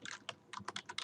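Keystrokes on a computer keyboard, typed in a few quick bursts with short pauses between them, close-up and fairly quiet, no voices.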